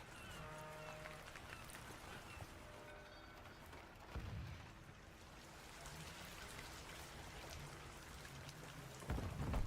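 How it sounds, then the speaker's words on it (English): Rain falls steadily across a map in an online shooter game, a continuous hiss of drops with a couple of louder low rumbling swells, like thunder, near the start and end. "Because the rain is coming down, you can never hear a footstep near you."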